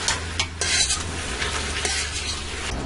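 Seasoned beef cubes browning in a pan with a steady, dense sizzle, broken by a few sharp scrapes and clinks of stirring. Close and fairly loud, with no talking.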